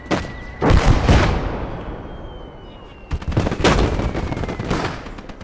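Bursts of rapid video game machine gun fire in a World War II battle, two loud volleys separated by a brief lull, with booming rumble underneath.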